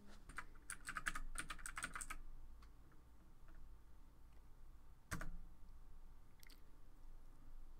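An IP address is typed on a computer keyboard: a quick burst of close, crisp keystrokes, then a few scattered clicks and one heavier key thump amid quiet room tone.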